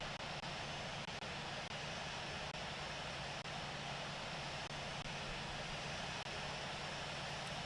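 Airliner taxiing to the runway in the Infinite Flight video game, a steady, uniform engine drone that holds constant throughout with faint ticks, no voices.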